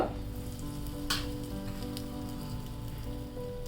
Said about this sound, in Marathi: कढईमध्ये तेल गरम करून घेतलेलं आहे याच्यामध्ये मी मोहरी घालते